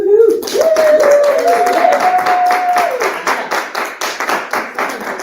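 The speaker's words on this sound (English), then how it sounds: "if you're in the room, just clap, just because." Clapping from people gathered in the room during a Sunday livestream gathering, starting under a sustained tone and a speaking voice, then continuing as a loose, uneven patter of hands toward the end.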